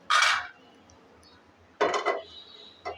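Metal pan set down on a stove in a home kitchen while making suji barfi, giving a sharp clank, then a second clatter and a small knock, close and clear with no speech.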